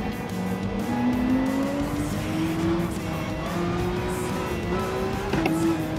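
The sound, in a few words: race car sliding and skidding in Gran Turismo 7 video game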